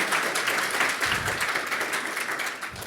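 A conference audience applauds steadily, a dense wash of clapping hands that carries on without pause and fades slightly toward the end.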